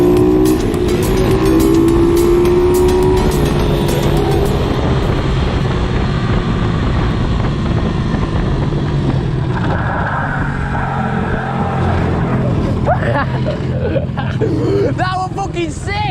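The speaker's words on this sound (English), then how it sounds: "I literally just locked up the back wheel and did the longest slide ever" A 125cc pit bike on a slippery road, rear wheel locked under back-brake-only braking as it slides a long way, its engine and tyre noise loud and continuous throughout, with road and traffic noise around it.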